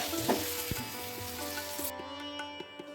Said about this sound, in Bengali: গাজরের টুকরোগুলো এইবার ভেজে নেব।